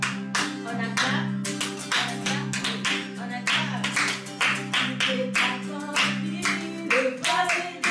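A children's church congregation claps along in a steady rhythm over loud, sustained worship music, with the claps close and continuous throughout.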